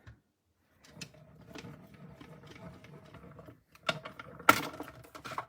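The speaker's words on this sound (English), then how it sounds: "And die cut that first." A die cutting machine runs a paper label through its plates for card making, giving a steady low mechanical rumble and whir for a few seconds, followed by a couple of sharp clicks and a loud clack near the end.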